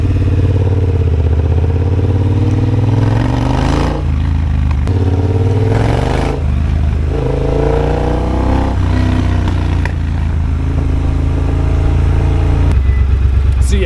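A Triumph Bobber motorcycle rides over wet, cold cobbles, its engine droning loud and steady throughout with rising and falling revs and road rumble, close up.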